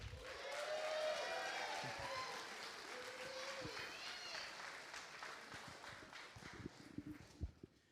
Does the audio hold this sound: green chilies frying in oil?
no